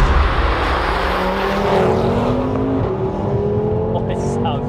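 Engine of a modified Audi RS3 8P rated at 535 bhp, a loud continuous growl with rising and falling revs, close and steady throughout.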